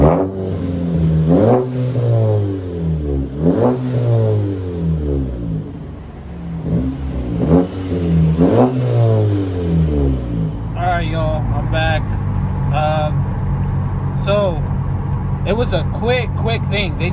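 A car engine with a newly installed turbo downpipe, with no muffler and a freshly welded section, revs repeatedly in strong surges, then idles roughly while someone talks over it.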